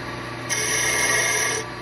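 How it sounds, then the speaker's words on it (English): A small carbide woodturning tool cuts into wood on a lathe while turning a Christmas ornament, giving a steady whirring scrape over the motor hum that swells for about a second and then eases off. "First, I'm going to use this little carbide tool here."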